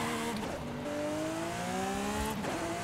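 Car engine in Forza Horizon 5 heard from inside the cabin, a steady loud drone whose pitch climbs smoothly as the car accelerates, with a brief shift-like dip near the start and another near the end.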